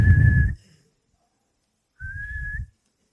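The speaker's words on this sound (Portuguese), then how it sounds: "Tem um apito." A whistle used as an example of a tonal sound: two clear, high, steady whistled tones, each about half a second long, separated by silence and heard alone.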